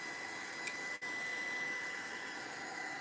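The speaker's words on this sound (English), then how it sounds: "I'm just drying the background and I'm drying the embellishments and the brush." A handheld dryer blows steadily over a painted mixed-media background, embellishments and a brush, giving a constant close whooshing hiss with a brief dip near the one-second mark and no voices.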